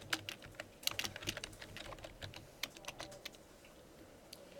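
Rapid, irregular clicking of computer keyboard keys as notes are typed during a lecture, close and fairly quiet, with bursts of keystrokes and short pauses.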